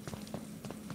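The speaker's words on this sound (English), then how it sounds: "Hold on, I hear footsteps." Footsteps in the stealth video game Sneak Thief, a quick uneven patter of soft steps with no talk over them.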